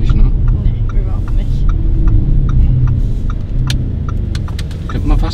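Lamborghini Urus SUV, 650 PS and 2.2 tonnes, cruising on a test drive, heard from the cabin as a steady low engine and road hum under people talking.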